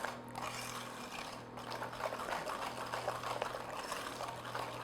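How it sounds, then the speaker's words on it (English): Brownie batter whisked by hand in a bowl, a continuous soft wet swishing at moderate level with a faint steady hum beneath. "I'm going to whisk it for a little bit until it's nice and smooth and shiny"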